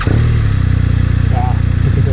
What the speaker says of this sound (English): And the beautiful sound of the Boxer.